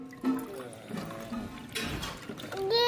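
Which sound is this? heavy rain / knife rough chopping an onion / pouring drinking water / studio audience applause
pouring drinking water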